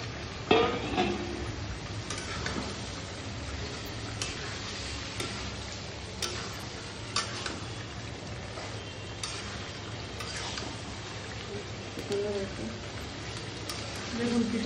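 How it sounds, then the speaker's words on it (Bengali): Chicken pieces going into spices frying in a pot for Bangladeshi-style chicken polau, a steady close sizzle with occasional stirring clinks, while a voice talks over it. "এখন আমরা মাংসটা দিয়ে দিচ্ছি"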